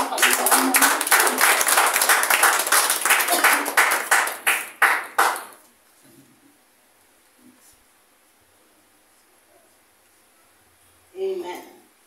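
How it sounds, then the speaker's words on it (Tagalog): Loud congregation applause at a church service, dense clapping that thins into a few final claps and then stops, leaving quiet room tone before a brief voice near the end. "isa pong malakas na palakpak sa Panginoon"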